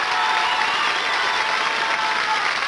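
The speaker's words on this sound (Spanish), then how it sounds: "¡Y el aplauso fuerte del público!" A television game-show studio audience applauds loudly, a dense, continuous burst of clapping with some cheering, close and sustained for the whole moment.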